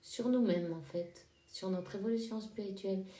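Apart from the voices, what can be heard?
No everyday noise stands out behind the speech.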